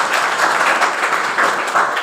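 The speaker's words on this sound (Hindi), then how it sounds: "एक जोरदार ताली योगेंद्र सर के लिए" Audience at a Sunday seminar in Gangapur City claps together, a dense, steady wash of hand claps filling the whole stretch at fairly loud, even volume.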